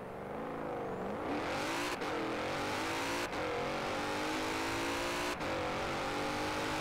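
A four-door car in Forza Horizon 4 accelerates hard on the motorway, its engine note climbing steadily in pitch through the revs with three short breaks at gear changes, loud and continuous with no talking.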